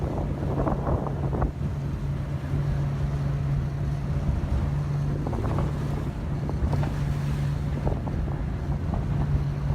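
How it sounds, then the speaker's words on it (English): Boat on a dolphin-watching tour off Mauritius, a continuous engine drone with wind buffeting the microphone and splashy water noise, loud and steady throughout with no talking. "So I'm on the boat tour for dolphins."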